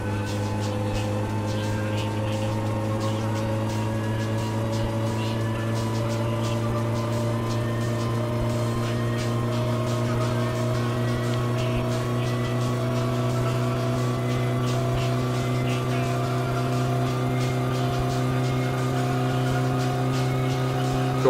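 A car engine in a video game revs steadily upward while held in fourth gear, a loud continuous drone whose pitch climbs slowly across the whole stretch.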